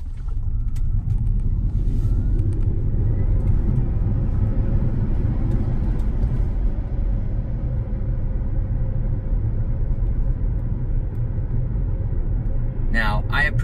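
A Tesla electric car climbing a hill at low speed, giving a steady low road and tire rumble with almost no motor whine; the hum stays even throughout and ends with a brief high chirp.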